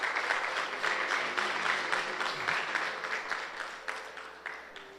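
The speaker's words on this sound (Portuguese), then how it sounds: "Vamos dar uma linda salva de palmas para o Senhor Jesus" A congregation applauds during a Sunday worship service in a church, a dense, steady wash of many hands clapping that fades slightly toward the end.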